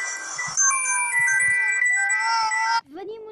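A phone ringtone plays a loud, bright electronic melody with sustained tones for almost three seconds, then cuts off, followed by a brief falling tone.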